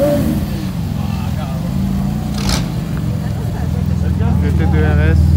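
A Porsche GT2 RS rumbles past at a car meet in Luxembourg, its deep engine note swelling close by while excited talk and crowd voices carry over it.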